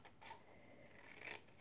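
Scissors cutting paper for a large loaded scrapbook envelope: two or three soft, close snipping strokes with a faint papery rasp, quiet and alone without speech.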